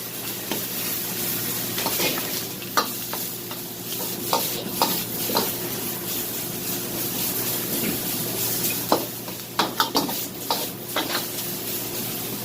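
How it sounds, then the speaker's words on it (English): Vegetables, including homegrown ones, stirred and sizzling in a frying pan, with a steady close frying hiss and repeated scraping utensil strokes throughout, no talking. "Now we're just going to stir the vegetable nicely, soften for a couple of minutes."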